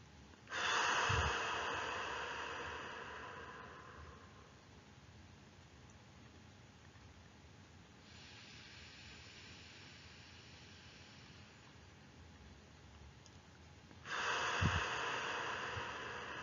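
Slow, deep breaths during a guided sophrology relaxation exercise: two long, soft exhalations several seconds apart, each a breathy hiss with a faint snort at the start, alone in a quiet room.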